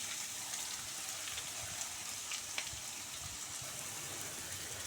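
Chopped onion sizzling in hot oil for an okra fry, a steady soft crackle and hiss with a few sharper pops, close by and with no voice over it.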